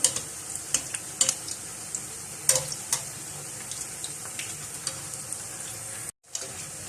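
Vegetable pakoras sizzle steadily in hot oil, broken by sharp clicks and scrapes as the fritters are turned, with a brief dropout near the end.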